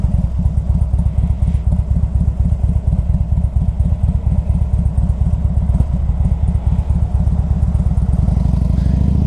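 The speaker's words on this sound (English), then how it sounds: "We're rolling down the highway at 75 miles an hour" A 2003 Harley-Davidson Electra Glide touring motorcycle cruises on the highway at speed, its loud, deep V-twin engine throbbing steadily and close without a break, with wind rumble beneath and no voices.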